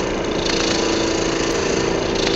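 A roughing gouge cuts a wooden goblet spinning on a lathe, giving a steady, loud whirring scrape with a constant motor drone and no pauses across the short stretch.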